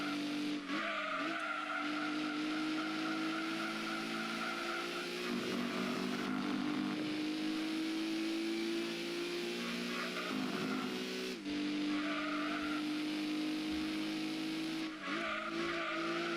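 An HKS Drag 180SX race car laps a track in a racing video game, its engine droning loudly and steadily with rising and falling revs, gear changes, and tire squeal throughout.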